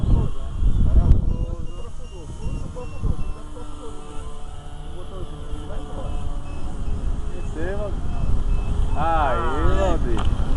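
A radio-controlled Top Fly model airplane with a 1.40 m wingspan gives a faint, repeated electronic beeping outdoors in strong wind. Heavy wind rumble runs underneath, and people talk over it.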